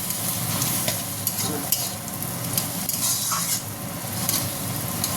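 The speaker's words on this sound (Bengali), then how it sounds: "এবার আমি একটু ভেজে নিলাম।" Egg frying in a pan for chow mein, a loud, close, steady sizzle with repeated stirring and scraping of utensil against metal, no voices.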